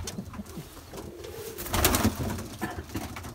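Young pigeons coo softly in an aviary, a few low, murmuring calls that swell briefly in the middle, faint and close.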